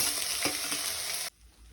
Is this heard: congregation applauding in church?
no